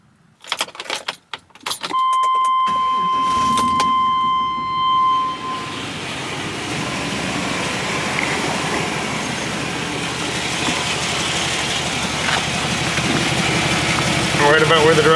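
A car engine idles steadily during an exhaust back pressure test. After some clanking and rattling at the start, a continuous, even hum runs close by to the end, with no talking over it.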